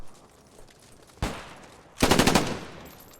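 A submachine gun fires in the World War II video game Post Scriptum, a single sharp shot followed by a quick rapid burst of close, loud rounds, with no talking.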